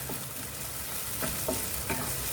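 Tomatoes sauté in a pan for an Indian street-food ragda pattice, giving a soft, steady sizzle with a few brief scraping stir strokes, fairly quiet and without voices.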